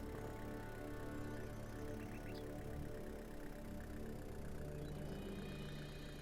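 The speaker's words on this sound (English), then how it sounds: "This truck's just not very loud." A pickup truck engine in the Farmers Dynasty farming game runs at a steady low drone, fairly quiet and droning on without change, with no voices over it.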